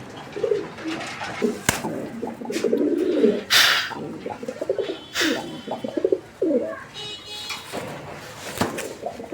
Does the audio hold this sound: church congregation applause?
no